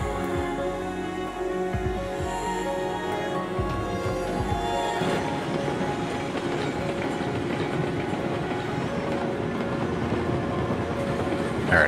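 A train rolling along the track in Railroads Online, a continuous rumbling clatter with rhythmic clicks and metallic squeal tones, steady and close throughout without speech.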